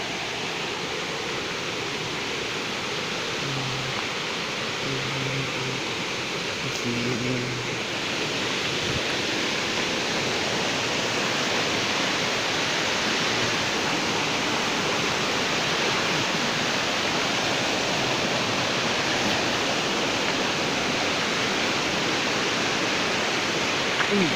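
Rushing water flows steadily in a broad, continuous roar, with faint voices briefly audible beneath it.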